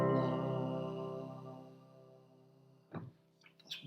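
A single low piano note rings out and slowly decays over about three seconds, followed by a couple of faint clicks.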